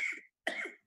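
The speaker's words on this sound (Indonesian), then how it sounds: "sampai kebatuk-batuk" Two short harsh coughs from a person during a public speaking webinar, close and fairly loud, separated by a brief silence.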